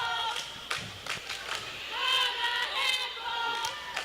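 A roller derby crowd at the 2018 Arizona State Championships cheers for a jammer, with scattered claps, whoops and shrill voices rising in a loose swell throughout.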